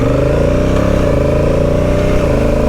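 Honda motorcycle engine, an Africa Twin or Transalp, accelerating on the road with a loud, steady, throaty drone and slight rises in pitch as the throttle opens gently, sounding close with no voices.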